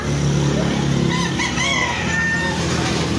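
Chickens cluck and a rooster crows amid a busy outdoor din, fairly loud and close, with a steady engine-like hum underneath.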